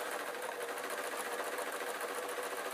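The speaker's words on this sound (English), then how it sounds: "the machine is stretching it whilst it's sewing" A sewing machine runs continuously, stitching stretchy tights fabric for a spider soft toy, a close, steady rapid mechanical chatter with an even rhythm and no voices.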